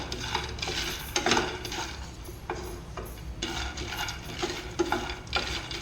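Peanuts dry-roasting in a pan without oil while being stirred: repeated rattling scrapes and clinks of a metal spoon against the pan in an irregular rhythm, close and clear with no talking.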